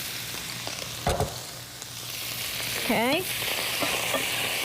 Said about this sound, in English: For a second now, I'm going to add my rice. My cauliflower rice.